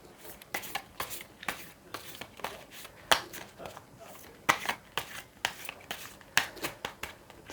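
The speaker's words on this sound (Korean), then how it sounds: "나머지 2장 카드를 펴볼게요" Tarot cards are slid and flipped out across a table in a quick, irregular run of crisp papery snaps and rustles, close and clear.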